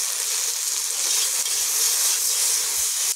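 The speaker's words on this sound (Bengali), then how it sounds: "যে টকের সবজিগুলো ভেজে নিচ্ছি" Vegetables for a sour dish, okra among them, fry hard in hot oil, a loud dense sizzle holding steady and close throughout with faint stirring, no voices.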